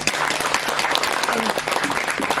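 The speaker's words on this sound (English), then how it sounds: "And applause of appreciation to all the trainees and the teachers." Applause from an audience at a training graduation ceremony for trainees and teachers, a dense, steady patter of many hands lasting a couple of seconds.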